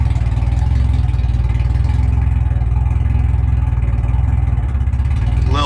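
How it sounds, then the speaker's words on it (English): A Chevrolet S10 pickup with a 5.3 V8 idles low, rough and lumpy, a steady close-up rumble with an uneven loping pulse throughout, no talking over it. "See all the idles like really low and lumpy?"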